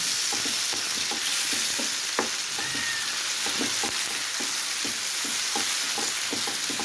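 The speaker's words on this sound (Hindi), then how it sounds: "इसको भी अच्छी तरह हमने फ्राई कर लेना है कि ये अच्छी तरह हो जाए, मसाला बन जाए।" Masala sizzling in a pan for a brain (maghaz) masala fry, a steady close crackle of frying with regular scraping strokes of a spoon stirring through it, no voices.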